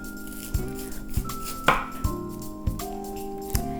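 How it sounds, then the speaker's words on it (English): A knife cuts a whole cauliflower into thick slabs on a board, with about six firm, evenly spaced chops and crunches close up over faint background music, and no one speaking. "I'm cutting this cauliflower about half to 3/4 of an inch thick."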